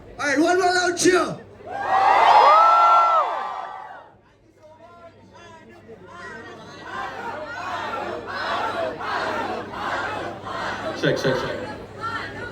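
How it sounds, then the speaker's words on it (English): A concert crowd at a live show in Mumbai cheers and whoops loudly, with a big surge of shouting early on, then a dip and a renewed swell of voices and chatter. "Alright, one more loud cheer."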